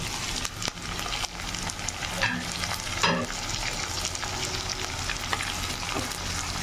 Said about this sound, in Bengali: মাছটা হালকা করে একটু ভেজে নেব।